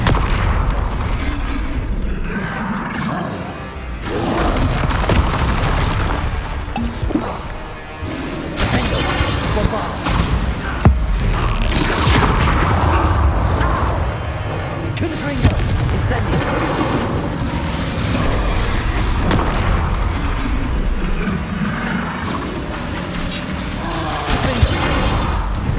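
Bombarda and Confringo explosive spells blasting in Hogwarts Legacy, dense booming impacts and crackling bursts layered over continuous combat noise and music, loud and sustained throughout.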